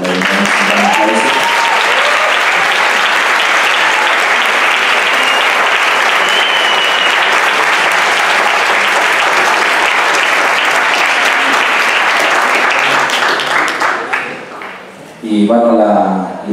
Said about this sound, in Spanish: Y que le demos un gran aplauso.